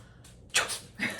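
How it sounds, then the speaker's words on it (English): A small dog sneezes after sniffing, giving two sharp, close bursts of breathy noise about half a second apart, with quiet room sound before them. "He's gonna sniff me and sneeze."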